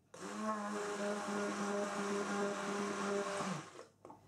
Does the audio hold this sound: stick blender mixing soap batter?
yes